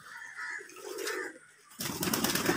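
Pigeons released into the air beat their wings in a burst of flapping, faint and soft at first, then louder.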